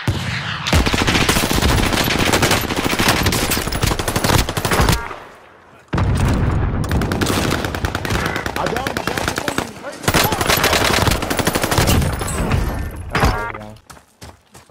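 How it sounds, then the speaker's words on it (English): Sustained, loud rapid automatic gunfire, likely machine-gun bursts, roars almost without pause across the clip, breaking off briefly once and thinning out toward the end. "Somebody was shooting at him, see?"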